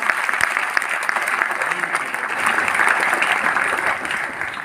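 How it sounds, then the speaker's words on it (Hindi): An audience at a teachers' workers' conference at Delhi University applauds steadily, a dense, even wash of many hands clapping at once that holds for the full stretch and swells slightly toward the end. "तालियां थोड़ी ज़्यादा बजनी चाहिए।"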